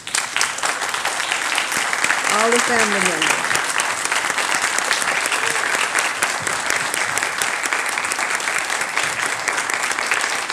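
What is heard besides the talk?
audience applause for family members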